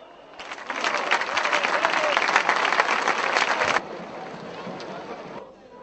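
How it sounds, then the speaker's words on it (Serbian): A stadium crowd applauds Partizan's black-and-white players at a football match, a dense wash of clapping that swells for several seconds, then cuts to softer, more distant crowd noise. "Igrači crno-belih su ispraćeni aplauzom"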